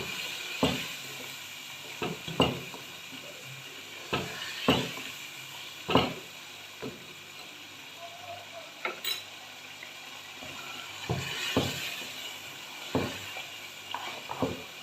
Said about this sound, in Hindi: अब गोश्त की अच्छे से भुनाई होगी।